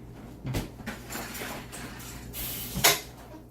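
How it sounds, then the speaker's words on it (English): Spoon clinking among dishes while serving a tuna super greens rotini pasta salad, a few close metallic knocks and scrapes with a sharp clack near the end, no talking. "We get a different spoon here."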